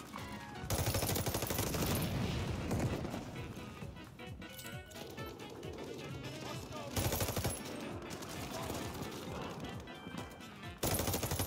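Rapid bursts of automatic gunfire from the Cooper Carbine in the shooter game Call of Duty: Vanguard, loud and dense, with game effects between sustained volleys.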